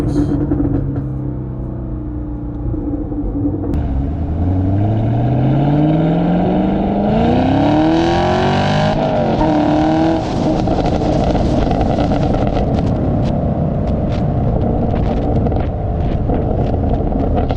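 Chevrolet Camaro SS 1LE, a stock factory car, revving its engine up through a rising roar that holds loud and close, then settles into a sustained rumble with no talking.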